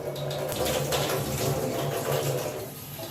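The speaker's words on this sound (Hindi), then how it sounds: "भीगने के बाद जो उसका चावल का पानी होता है ना, वो मैं डिस्कार्ड कर देती हूँ" Soaking water being drained off rice, a steady close rush of pouring and splashing water that runs continuously at an even, fairly loud level.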